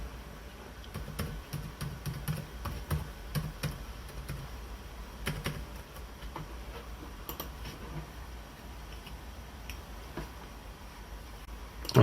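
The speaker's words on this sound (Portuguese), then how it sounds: "vou digitar a senha" Fingers tap out a password on a Compaq CQ15 laptop keyboard, quiet, close clicks in uneven bursts with short pauses against a faint room hiss.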